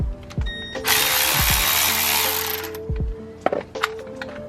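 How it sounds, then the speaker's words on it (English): Ratchet or power tool loosening a 10 mm bolt holding a brake line on a 1999–2006 Chevy Silverado 1500 front hub, a close loud whirring burst of about two seconds followed by a few metallic clicks and knocks. "loosen up this 10 mil right here that holds this brake line"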